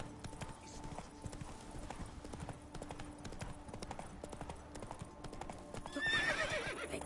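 A horse in The Witcher gallops with rapid, steady hoofbeats under game music, then gives a loud whinny near the end.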